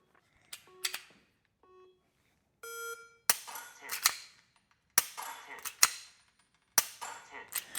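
Mantis Laser Academy training pistol shots, several sharp dry clicks in a loose series, each followed by an electronic beep or chime, fairly close and faint with brief pauses between.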